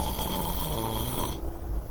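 A person imitates a friend's snoring during a picture-book storytime, giving one drawn-out, raspy snore that stops abruptly before the end.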